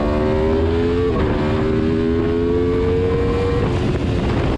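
Aprilia Tuono 1100 Factory and RSV4 1100 Factory motorcycles, 2019 models, at Sydney Motorsport Park race track: a loud, steady high-revving engine drone holds throughout, with a brief dip in pitch partway through.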